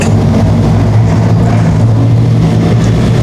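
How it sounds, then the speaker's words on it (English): Modified race cars thunder to life at turn 4 of Evans Mills Motorsports Park, a loud, dense, sustained engine roar with deep pounding low rumble and no break. "Can feel the ground pounding thunder as the Land Rockets roar to life on a turn number 4"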